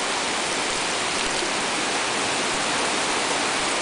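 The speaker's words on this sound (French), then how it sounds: "il mouille plus fort, là" Heavy rain pours down outdoors in a steady, dense hiss that fills the whole stretch, loud and close with no break and no voices.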